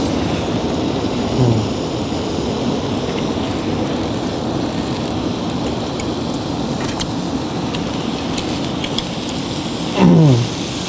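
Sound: subway train noise

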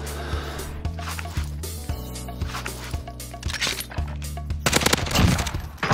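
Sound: gunfire in Call of Duty Warzone video game

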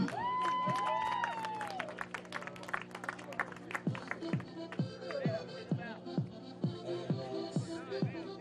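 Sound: applause for the Herkimer baseball team

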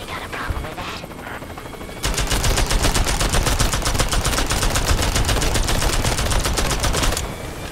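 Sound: gunfire in the video game Worms W.M.D

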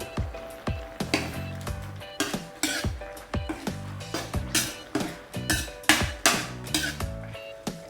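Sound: stir-frying spicy seafood in a pan

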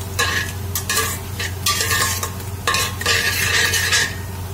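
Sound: stir-frying bitter gourd peels and seeds in a pan

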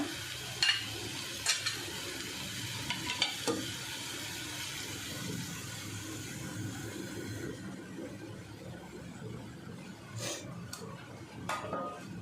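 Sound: tomatoes added and sautéed with masala, peas and potatoes

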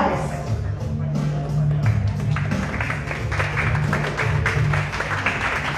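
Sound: loud applause welcoming an artist to the stage

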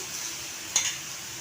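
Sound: garlic and ginger frying in pan

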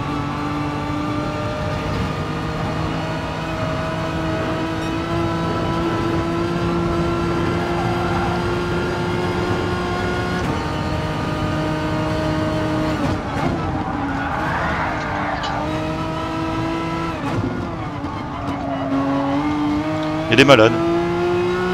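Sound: race car engines in Gran Turismo Sport video game

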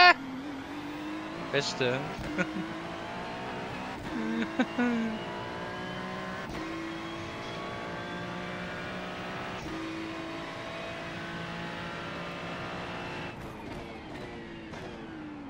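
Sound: Audi race car engine in sim racing video game at Sebring

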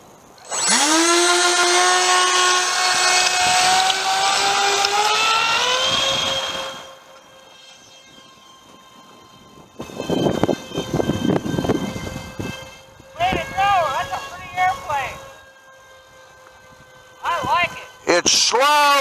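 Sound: Dynam A-10 Warthog model airplane flying

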